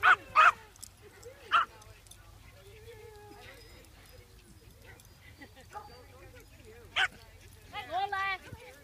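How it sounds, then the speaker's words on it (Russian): A dog searching for a lost ball gives several sharp, loud barks in short bursts, spaced apart with quieter gaps, while people talk nearby. "Геройский пес, геройский."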